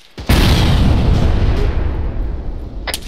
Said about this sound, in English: These mortars seem to be zeroing in on us.